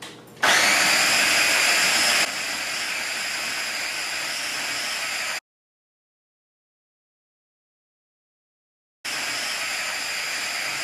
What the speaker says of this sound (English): we're going to put the lid on and we're going to blend